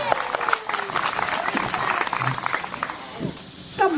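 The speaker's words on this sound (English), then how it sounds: "everyone applaud for our new narrator" An audience at a live stage show applauds a newly chosen narrator with a few seconds of steady, dense clapping; a voice cuts in near the end as the applause fades.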